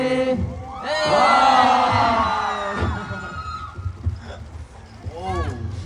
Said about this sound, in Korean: 함성 소리가 대왕이네요